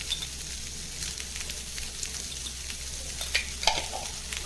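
Steady sizzling of onions and spices, with turmeric and asafoetida, sautéing in a pan for ridge gourd masala, a soft continuous crackle with occasional sharper pops, no talking.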